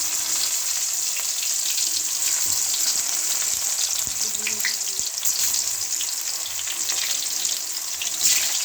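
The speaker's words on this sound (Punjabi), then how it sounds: "ਹੁਣ ਸਭ ਤੋਂ ਪਹਿਲਾਂ ਅਸੀਂ ਆਪਣੇ ਕਰੇਲੇ ਤਲਾਂਗੇ" Bitter gourds (karela) fry in hot oil, giving a steady, bright sizzling hiss that holds for the whole stretch, with a few faint clinks and bubbling pops close by.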